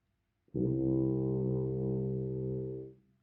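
A single long, low tuba note, C, swells in and holds steady for over two seconds before fading, played alone with no talking.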